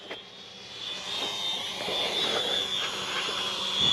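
A small foldable toy drone with a 1080P camera hovers and flies nearby, its motors giving a steady high-pitched whine that swells louder toward the end, alone without talk.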